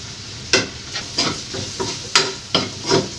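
A pan of cooking liquid bubbling on the stove, with a steady sizzle broken by about seven rhythmic scraping stirs, close and fairly loud with no talking.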